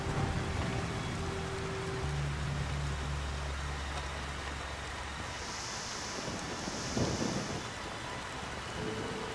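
Steady rain with rumbling thunder from the stealth game Splinter Cell: Pandora Tomorrow, a continuous downpour hiss with low drones, a brief rumble swell midway and a high electronic tone partway through, no talking.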